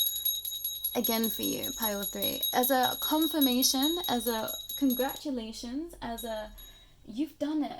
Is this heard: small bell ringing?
yes